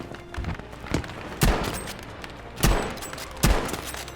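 Gunfire in the Battlefield V video game: a run of loud, booming single shots spaced about a second apart, each with a rumbling tail, over a continuous battle background with no clear talk.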